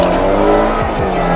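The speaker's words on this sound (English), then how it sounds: "Oh yeah, the motor sounds deeper." Honda car engine running on E85 ethanol, with a loud, close, deep steady drone and a couple of brief pitch sweeps as it revs.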